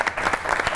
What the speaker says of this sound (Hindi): बहुत सी तालियां होनी चाहिए दोनों बाप बेटे के